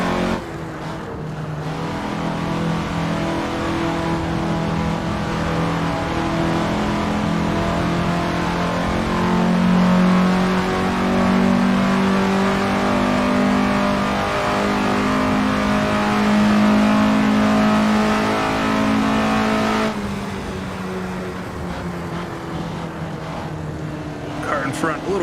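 1950s Indy sprint race car engines in the game Assetto Corsa drone and rev continuously, their pitch rising and falling as the cars run, with a voice talking over the engine noise.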